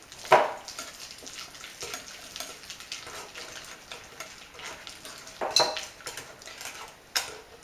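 A whisk beats cream cheese in a bowl for a crepe filling, giving off soft irregular scraping and clinking against the bowl with a few sharper knocks.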